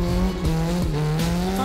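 Car doing a burnout, engine revving in sharp rising and falling bursts with squealing tires, loud and close, several quick rev swings in succession.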